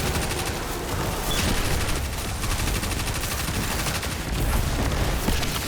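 Rapid submachine gun fire in a first-person shooter game, a dense, continuous rattle of loud automatic bursts running unbroken from start to finish with no talk.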